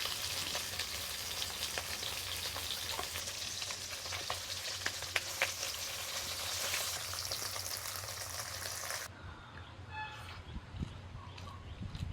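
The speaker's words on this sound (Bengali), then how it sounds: "এই যে সবাই বললো গরম গরম ভাজা খাবো সেগুলোই ভাজছি" Fish marinated in salt and oil sizzles in a hot pan with a dense, steady crackle and spatter that drops away near the end, leaving faint clinks and quiet background noise.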